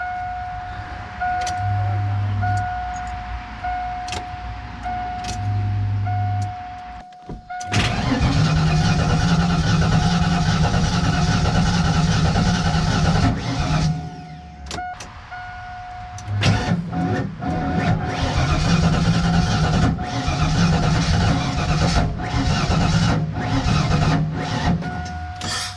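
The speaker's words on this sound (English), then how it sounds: "I'm gonna key it up 2 or 3 times because obviously it's a pretty dry fuel system" A Ford Mustang with a dry fuel system is keyed up: a fuel pump hums faintly with a steady whine, then the starter cranks the engine in two long loud runs separated by a short pause, without talk.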